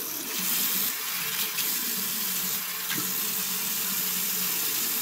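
Hot water from a tap runs steadily at full flow into a dirty sink, a continuous close splashing hiss that stays even and alone for the whole stretch.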